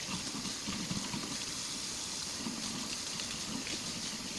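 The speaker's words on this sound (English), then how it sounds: "I don't usually wash my potatoes in hot water." Steady running water, likely warm, splashing continuously as potatoes are washed under a tap in a sink, close and even throughout.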